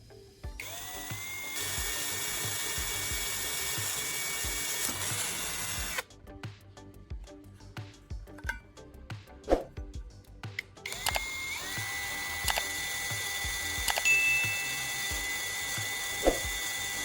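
A small drill drilling small holes in a metal tuna can runs steadily at a high whine, pauses for several seconds of clicks and handling noises, then starts up again and keeps running.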